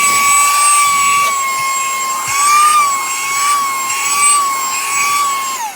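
A Smart Sakers 3-in-1 handheld vacuum runs with a loud, close, high motor whine that wavers slightly in pitch and holds steady for several seconds with no voices.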